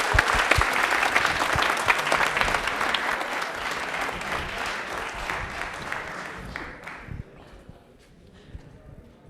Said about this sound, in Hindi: तालियां एक बार जोरदार हो जाए इनके लिए